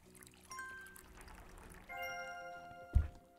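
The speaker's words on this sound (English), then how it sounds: "I'm gonna fill this up with water already." Water pours into a pet bowl at an animal shelter in Animal Shelter Simulator. A soft, quiet trickle runs under light game chimes and tones, ending in a brief louder splash near the end.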